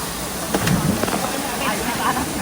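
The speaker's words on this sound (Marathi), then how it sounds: "पाणी माझ्यावर उडलं." Water splashes at Usgaon waterfall under a constant rushing roar, with a few sharp close splashes and people's voices mixed in.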